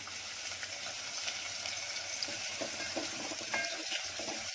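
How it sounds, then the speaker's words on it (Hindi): A small onion goes into hot oil already fragrant with cloves, black pepper and cardamom for a Konkani egg pankaajee, giving a steady, close, even sizzle with faint crackles throughout and no talking. "अब इसमें एक छोटा सा प्याज जाएगा।"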